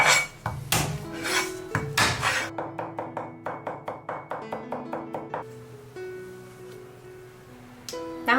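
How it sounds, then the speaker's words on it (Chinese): Garlic being minced with a knife on a cutting board: a fast, even run of roughly fifteen close, crisp chops after some louder knocks, with music underneath. "再准备几个蒜蓉，把它剁碎。"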